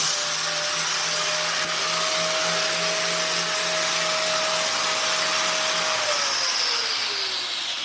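A power grinder grinds CF Moto UTV shock parts flat in a workshop, a loud, continuous, close whine whose pitch holds steady and then drops slightly near the end.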